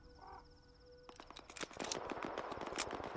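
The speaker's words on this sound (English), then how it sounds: "I don't know what the gunfire is from a distance." Distant gunfire in a first-person shooter game, a rapid string of sharp cracks that starts partway through, faint and unaccompanied by speech.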